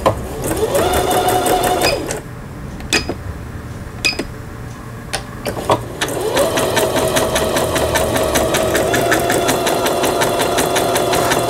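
A Singer 7640 home sewing machine runs a programmed stitch pattern in steady rapid mechanical ticking, stops with a few clicks and clacks, then resumes sewing at the same even pace, loud and close.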